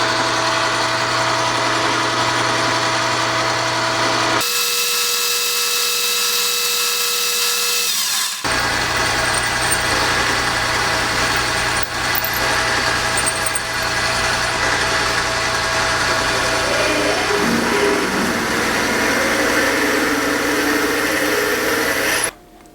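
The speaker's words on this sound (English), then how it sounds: "next I'm going to drill and tap it for the 7/16 20 threads that it needs inside" Loud, steady mechanical whirring of a lathe drilling metal stock, running continuously, with a brief change in tone partway through before the hum resumes.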